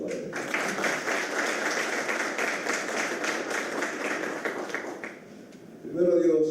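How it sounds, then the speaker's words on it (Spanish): A hall audience applauds José Gómez, president of the Dominican Association of Journalists and Writers. The clapping is dense and sustained, then thins and fades before a voice starts speaking at the end. "Un aplauso para él."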